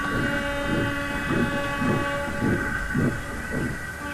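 A steam engine shunting goods trucks in a rail yard chuffs in even, regular beats, roughly seven over four seconds, with a steady tonal whistle-like hum running beneath, close and continuous.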